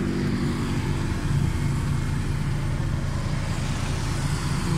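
A Suzuki Khyber car engine idles steadily after a carburetor repair, a smooth, even low rumble running continuously and close by with no voices.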